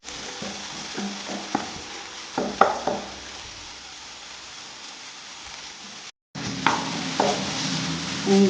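Onions sautéing in a pan over a low flame, a steady soft sizzle with occasional stirring scrapes and light clinks, broken by a brief gap of silence.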